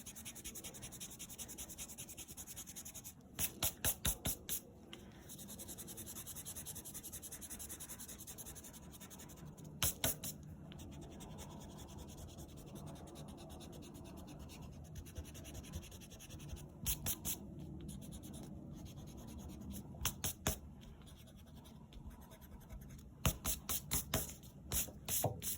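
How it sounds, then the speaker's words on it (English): An eraser rubs pencil lines off an inked bunny drawing on paper, a steady soft scratchy scrubbing that continues throughout, broken by occasional brief clusters of sharp taps. "Now I'm just going to do the fun part and erase"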